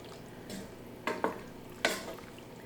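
Chickpea pasta stirred with jarred spaghetti sauce in a pot, giving a few soft, wet scraping strokes over a quiet background hum.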